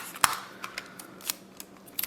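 Scissors snipping paper for a paper calla lily, a few quiet, sharp cuts at an uneven pace close by, with no voices.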